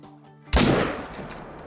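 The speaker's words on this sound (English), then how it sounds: "we should be able to take the shot with the 300 magnum" A single sharp, loud .300 Magnum rifle shot in the hunting game Call of the Wild, following a quiet lead-in and trailing into a fading echo.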